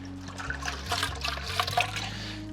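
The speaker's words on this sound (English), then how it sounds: "And then we'll just give the housing another rinse out." Water sloshing and trickling while a whole house water filter housing is rinsed out, a steady close liquid wash with small splashes and a low hum underneath throughout.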